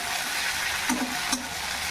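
Green chillies, black pepper and spices sautéing in a little oil for a chicken stew. A steady close hiss runs throughout, with a couple of brief soft knocks from stirring.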